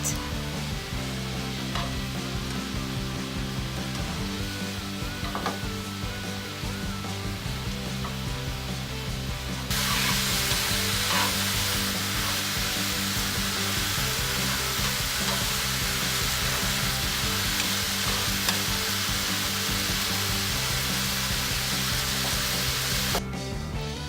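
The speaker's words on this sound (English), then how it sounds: "I'll grill this for 15 minutes. Make sure you wait until seasoning is dried up and onion gets transparent." Bulgogi beef and onion sizzling in a pan, a steady loud crackle of frying that grows a little brighter halfway through, with occasional stirring scrapes and no voices.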